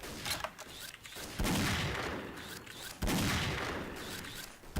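Rapid bursts of gunfire from the shooting game X-Shot, with two loud volleys that each start abruptly and fade, separated by short lulls.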